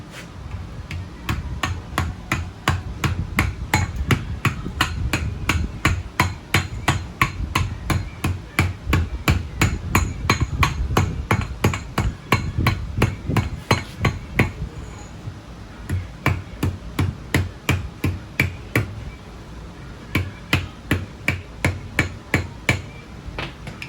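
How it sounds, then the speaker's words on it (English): Steady, rapid hammer blows strike a part for an E36 turbo drift car, flattening it against a backing bar, with dozens of sharp metallic impacts in a fast, even rhythm, loud and close with brief pauses. "I just loaded it with a bar on this side to make sure that I wasn't hammering on the ear"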